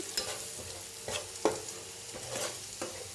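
Pieces of shankar and lote fish stir-fried with turmeric, cumin and chilli powder: a low sizzle under a handful of distinct spatula scrapes and taps spaced about half a second apart, close by.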